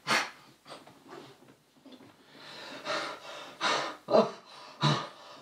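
A small dog pants and snorts heavily while tugging at a toy, close-up breathy gasps coming in uneven bursts.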